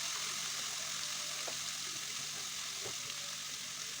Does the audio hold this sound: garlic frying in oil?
yes